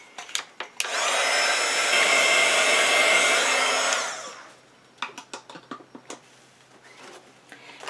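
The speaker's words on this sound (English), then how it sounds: "so I'm actually going to go ahead and heat set it." Heat tool blowing steadily for about three seconds to heat-set ink on an ink-resist Christmas card, a loud continuous whoosh that switches off, followed by scattered light taps and handling clicks.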